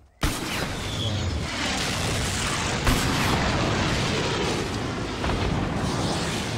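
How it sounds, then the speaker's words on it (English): A blast goes off in an online first-person shooter match, opening with a sudden loud boom that swells into a sustained, roaring rumble for several seconds, with a second sharp jolt midway. "I'm gonna explode it, mate."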